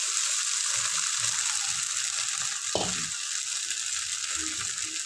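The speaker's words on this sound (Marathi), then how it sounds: "एक मिनिट एक मिनिटवर चांगला बटाटा फ्राय करून घ्यायचा आहे तेलात छान चव येते" Potato pieces frying in oil on a low flame for fasting khichdi, giving a close, steady crackling sizzle with one brief scrape of stirring partway through.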